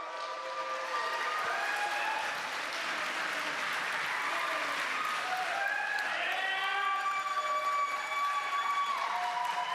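A crowd applauds and cheers at the Horror Game Awards 2025 ceremony, with a steady wash of clapping and high whistles throughout.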